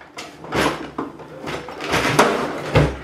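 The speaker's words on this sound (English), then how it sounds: "Well, that drawer shut now" A drawer in a guitar repair workshop is pushed shut, giving a few quick wooden knocks and clunks spread over about three seconds, close by and moderately loud.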